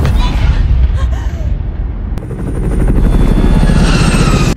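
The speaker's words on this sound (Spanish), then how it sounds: "Cerca hay otro helicóptero con varios evacuados." A helicopter at an oil-tanker explosion and evacuation scene roars loudly and continuously with a dense, throbbing low rotor rumble that holds for the whole stretch.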